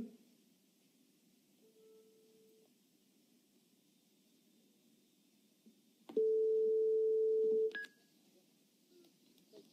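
A phone line rings out while a call is being placed: one faint ringback tone, then a loud, steady tone lasting about a second and a half, over quiet line hiss with no talking.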